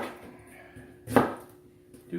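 Onions for pico de gallo chopped on a board, a couple of knife strikes with one firm, close chop standing out against quiet room tone.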